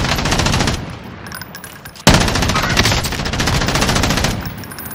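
Rapid sustained bursts from an MG34 machine gun in Warzone, loud and close, with a sharp jump in intensity midway as the firing continues unbroken.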